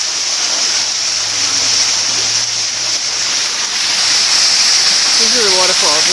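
A waterfall at Bermuda Zoo makes a steady, close rushing hiss of falling water that fills the whole clip, with brief faint voices near the end.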